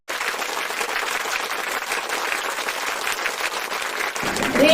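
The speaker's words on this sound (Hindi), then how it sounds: "जोरदार तालियां" A large audience at an RCM business gathering breaks into loud, dense applause that holds steady throughout, with a brief tone near the end.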